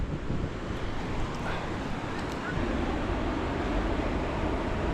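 Steady, blustery wind roars against the microphone throughout on the coast of Morocco, a continuous low rumble with gusts swelling slightly toward the end.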